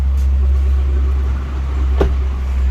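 A Mazda 2 diesel engine idles smoothly, a steady low rumble close by with one brief knock partway through and no talking.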